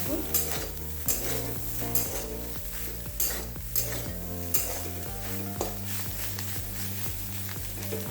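Soybean chunks fry in a pan for soyabean kurma made without onion or garlic, giving a steady close sizzle with periodic stirring scrapes and clinks under continuous background music.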